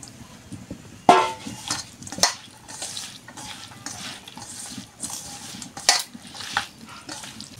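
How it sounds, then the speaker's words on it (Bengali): Spices and other ingredients being mixed by hand into loitta fish (Bombay duck) in a bowl, heard as soft, irregular squelching and scraping with a few sharper clinks against the bowl, close and fairly quiet. "সব উপকরণ আমি এখন মেখে নিব। দিয়ে দিব লোটে মাছ।"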